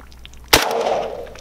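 Pistol gunshot fired at a watermelon outdoors, a single sharp loud crack followed by a rumbling echo that fades over about a second.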